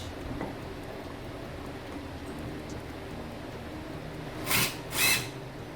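A power driver sinks screws into a pallet wood brace on a farmhouse table, two short, sharp whirring bursts close together near the end after a quiet, steady background hum.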